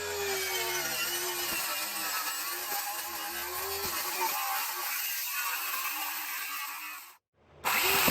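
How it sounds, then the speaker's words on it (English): A jigsaw saws through reclaimed pine flooring in a 1930s cottage, a close, loud rasping buzz that runs steadily for about seven seconds, then cuts out and briefly restarts. "I can use the jigsaw to finish it because it's cut at an angle"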